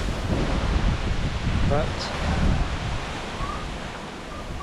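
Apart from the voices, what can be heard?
strong wind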